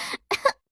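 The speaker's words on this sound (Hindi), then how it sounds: "हर तरफ खांसने की आवाजें आ रही थी।" Coughing in a cartoon story about a forest where birds fall ill: a short dry cough followed by a quick double cough, close and clear, with no other sound.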